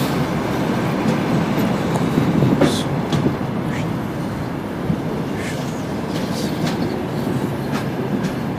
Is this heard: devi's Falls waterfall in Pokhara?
no